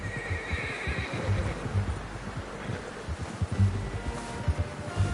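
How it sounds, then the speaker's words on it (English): Horse neighing in Red Dead Redemption 2, a loud whinny near the start followed by snorting and clip-clopping hooves with ambient outdoor rustle, with voices talking lightly over it. "How's that new horse?"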